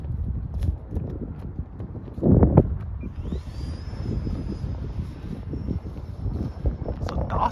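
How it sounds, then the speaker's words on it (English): Wind roars and buffets past the microphone while a Freewing BAC English Electric Lightning 64mm EDF model jet glides unpowered, a steady rushing gust with a louder burst midway; a faint high whine runs through the middle. "Look, this is the wind pushing her."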